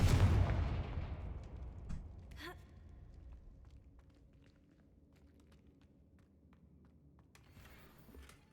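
A Confringo fire spell blast in Hogwarts Legacy opens with a loud, rumbling boom that slowly fades into a low, quiet rumble, with a sharp crack partway through and another burst near the end.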